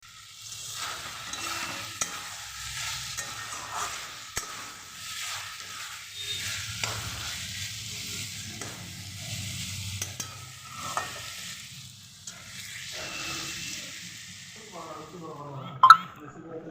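Curry simmering and sizzling in a pan after water is added, with scattered stirring scrapes and a soft bubbling hiss at low level, while someone talks over it.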